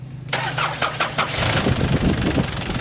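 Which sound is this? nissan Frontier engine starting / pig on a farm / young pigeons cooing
nissan Frontier engine starting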